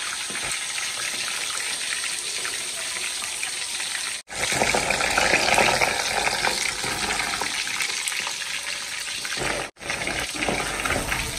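Quail pieces for kaadai 65 deep frying in hot oil, a dense continuous crackling bubble heard up close, broken by two short silent gaps, with no voices.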